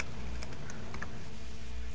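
Typing on a computer keyboard, a few faint, scattered key clicks over a steady hum of background noise.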